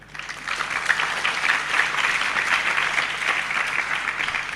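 A hall audience at a religious talk breaks into sustained, even clapping, dense and steady throughout, with no speech over it.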